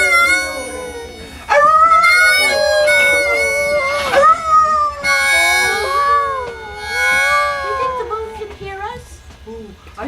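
Voices imitate wolves howling at the full moon in a forest clearing, with long rising and falling howls that overlap and swell loudly, then taper off.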